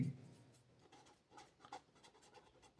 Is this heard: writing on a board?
yes